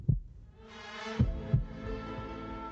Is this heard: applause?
no